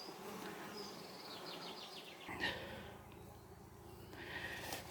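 A strong honeybee colony living inside a wall, with bees carrying pollen, gives a steady buzzing drone close by, busy flight tones rising and falling throughout with no talk.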